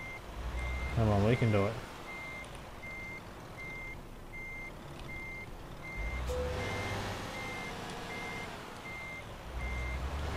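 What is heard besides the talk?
truck reversing beeps in the video game Euro Truck Simulator 2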